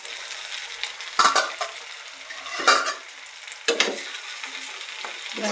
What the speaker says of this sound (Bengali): এখানে নেড়ে দিচ্ছি ভালো করে।